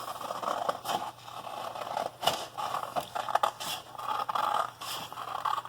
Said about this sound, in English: you're going to cut that circle out using your scissors